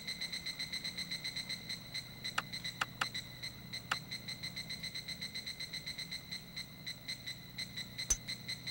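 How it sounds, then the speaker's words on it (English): Steady, rhythmic high-pitched chirping birds on a golf course in the video game Hot Shots Golf 3, repeating continuously and fairly faint, with a few sharp clicks over a low background hum. "On the front line, birds are chirping."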